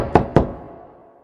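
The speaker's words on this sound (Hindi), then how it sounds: "थम्बलीना ने दरवाजा खटखटाया" Knocking on a mouse's door in an animated Thumbelina fairy tale, two crisp, close knocks in quick succession followed by a short fading decay and no voices.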